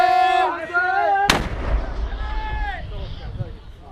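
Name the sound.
frontline mortar fire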